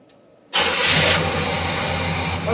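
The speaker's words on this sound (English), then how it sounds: "start the vehicle and we'll perform that test" A Chevrolet 350 V8 in a car under intake manifold gasket diagnosis cranks briefly and catches, then settles into a loud, steady idle heard up close with no talking.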